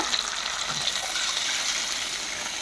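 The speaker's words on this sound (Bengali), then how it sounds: "এবার আমি এর ভেতরে জল দিয়ে দেবো" Water poured into a sizzling pan of rui fish curry masala, giving a loud, steady hiss and fry sound that holds evenly throughout, with no voices.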